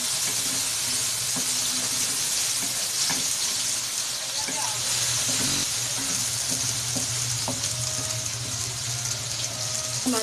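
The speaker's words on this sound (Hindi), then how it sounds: "प्याजों को अच्छी तरह फ्राई करेंगे" Onions fry in oil in a pan for an aloo anda dish, a loud, steady sizzle with occasional stirring scrapes and light clinks close by, no talking over it.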